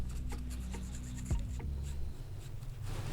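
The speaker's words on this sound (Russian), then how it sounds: "Я беру вот так мягкий карандаш белый и прям прокрашиваю всю нитку со всех сторон" A soft white cosmetic pencil rubs along a thread with quiet scratchy scraping strokes, close and faint, in short repeated passes with no voices.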